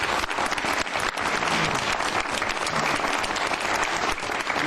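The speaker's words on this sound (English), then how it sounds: "please, a big round of applause" Dense, steady applause from an audience fills a council meeting chamber, loud and continuous from start to finish with no break.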